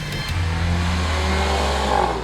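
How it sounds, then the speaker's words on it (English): A Mercedes-Benz GLC Coupe with a 2-liter engine accelerates hard, its engine note climbing steadily in pitch as the revs rise, loud and close throughout with no talk over it. "The engine has an energetic note and gets you excited with its high-pitched growl."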